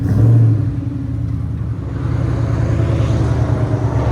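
A stick-shift car's engine idles through its exhaust with a deep, steady low rumble close to the microphone and a brief louder burble at the start, with no talking.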